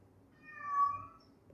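A pet cat gives a single drawn-out meow, close and clear, rising and fading within about a second in an otherwise quiet room.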